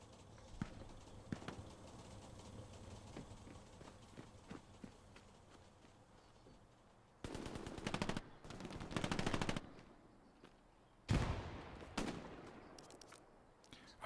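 Bursts of automatic gunfire crackle at moderate distance in the video game Glow's Battlegrounds, with several rapid volleys in the second half of the clip over quiet background clatter.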